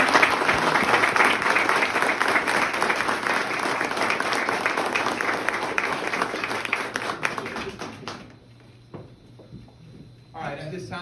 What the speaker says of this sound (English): Everyone, please join me in giving them a round of applause